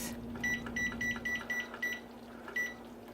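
A kitchen timer is set for cooking biscuits, giving a run of short, evenly spaced electronic beeps like button presses. The beeps are fairly faint over a steady low appliance hum.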